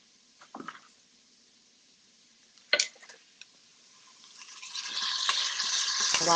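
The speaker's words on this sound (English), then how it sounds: "I'm going to stir that up to get that all separated so I don't have one ball of bacon." Bacon sautéed with onions, peppers and celery is stirred in a pan, with a few scraping clicks before a steady sizzle builds and grows louder and closer.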